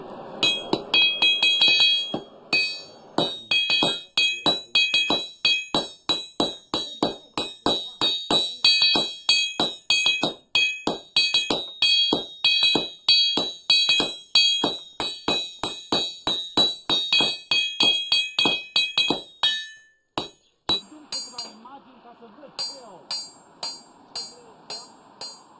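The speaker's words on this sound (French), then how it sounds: "On a encore une pièce à marteler à 2 et on aura fini." Blacksmith in a Transylvanian village forge hammering iron door and window fittings, a long run of bright ringing metallic strikes in a steady rhythm, at times with two hammers alternating, close and loud before trailing off into a few scattered blows.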